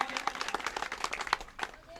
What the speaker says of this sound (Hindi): जोरदार ताली से अभिनंदन कीजिए, स्वागत कीजिए।